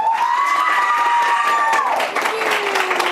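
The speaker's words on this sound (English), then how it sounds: "Give her a big round of applause" Students cheer and applaud loudly for their teacher in a school classroom, a dense, steady wash of clapping with high excited voices and squeals riding over it throughout.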